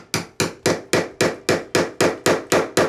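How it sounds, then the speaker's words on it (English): Steel hammer repeatedly strikes a beater chisel to chip mortar off a glass block, eleven sharp, evenly spaced blows landing about four per second, loud and close with no talking. "And we're just gonna go ahead and chisel this stuff away."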